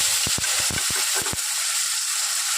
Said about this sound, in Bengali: জিরেটা দিয়েছি এবার পেঁয়াজটা দিয়ে দিলাম